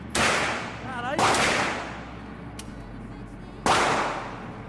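Real guns fired during shooting training: three loud, sharp reports spaced about a second or more apart, each followed by a decaying echo, with faint voices in between.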